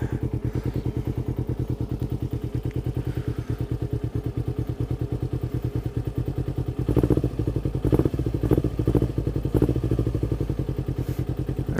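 A small engine idles just after starting, a close, loud, steady rapid chugging throb with some clattering and a few throttle surges in the second half.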